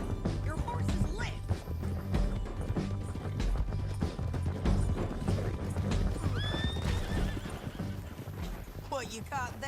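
Horse in Red Dead Redemption 2 whinnying loudly with rapid clip-clop hoofbeats amid crashes and thuds, while voices shout and talk over the action.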